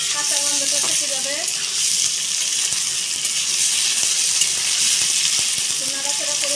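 Garlic and ginger paste fries in a pan, giving a loud, dense, continuous sizzle with faint clinks of stirring.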